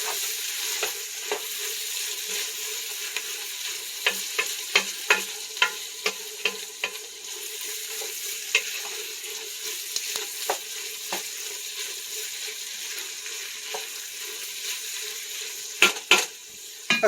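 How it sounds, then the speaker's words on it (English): Beef and vegetable soup ingredients fry in a pot with a constant loud sizzle, while a spoon stirs and scrapes with scattered clinks against the pot. "And go ahead and give this another good mix. And let this fry for about 30 seconds."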